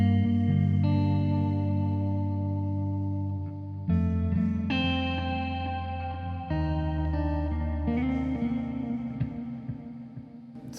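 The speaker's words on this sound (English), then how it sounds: "I use quite a lot of reverb and get like a spacey sound" Sustained electric guitar chords ringing out with heavy reverb and shimmering modulation, a spacious, washed-out tone with notes changing every few seconds.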